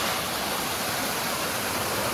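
A waterfall on a river in the Konkan roars as a steady, even rush of falling water, close and continuous, with no talk.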